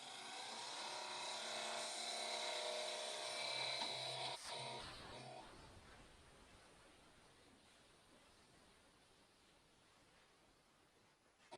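A skew chisel cuts wood spinning on a lathe, a steady broadband hiss and whir that holds loud for about five seconds, then drops away and fades into quieter rushing noise.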